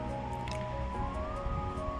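Tomatoes, onions and chopped green chillies being stirred in a pan, a brief, close, moist squishing and scraping texture with steady sizzling underneath and a low hum.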